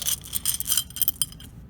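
Glass buttons clink and rattle together in a container, a quick run of small bright taps and light scraping close by with no talk.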